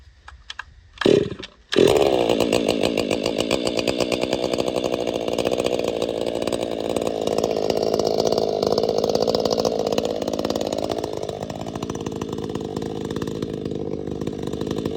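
A ported Stihl 500i chainsaw fires up after a short pull and screams at high revs through wood, loud and near, holding a steady snarl before the pitch shifts as the cut finishes, with no talking.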